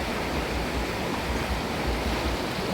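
A strong, fast-flowing river where a lift net is being fished, its dense rushing roar steady and loud throughout with no pauses and no voices.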